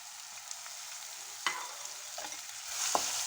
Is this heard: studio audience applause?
no